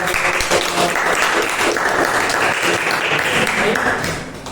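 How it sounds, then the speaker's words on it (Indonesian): An audience at a teacher performance test session claps steadily for several seconds, a dense even spread of hands that tapers toward the end, with faint voices underneath. "boleh tepuk tangan dulu untuk"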